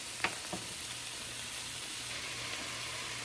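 Smoked sausage sizzles in a skillet with squash and zucchini, a steady, quiet frying hiss throughout with a couple of faint utensil clicks near the start.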